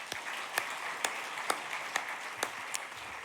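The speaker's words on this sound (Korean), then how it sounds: "우리 격려의 박수 한번 보내겠습니다" A church congregation at a deacons' seminary session claps in encouragement, a handful of sparse, evenly spaced sharp claps heard at a moderate distance over a quiet room.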